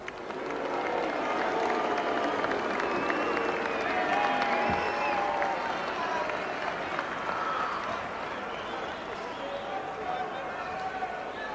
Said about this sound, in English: To the crowd at Lang Park, thanks very much for that ovation there